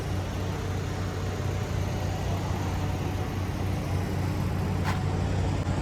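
A truck engine idling with a steady low throbbing hum, unchanging throughout, with a brief faint high squeak near the end; no talk.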